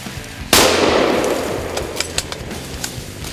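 A rifle shot at a charging moose during a hunt in Alberta: one loud, close crack with a long rumbling echo that fades, followed by a few small clicks and knocks.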